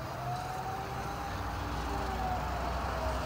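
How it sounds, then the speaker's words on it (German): A faint siren wails in the distance, its rising and falling tone barely above a steady background of traffic rumble. "Wir hören aus der Ferne eine Sirene."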